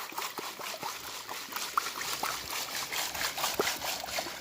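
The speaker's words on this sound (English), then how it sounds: "we're going to pan it out quickly, show you how fast you can do it" Water trickles and dribbles through gravel material in a gold pan, with faint irregular splashes and small clinks up close, quiet and without talk.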